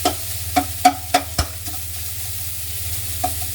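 Hong Kong fried rice is tossed in a hot pan, a handful of sharp scraping clatters in quick succession over a steady low sizzle, close and clear with no talking.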